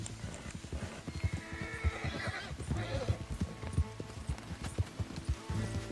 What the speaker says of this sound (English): Esse cavalo serve por enquanto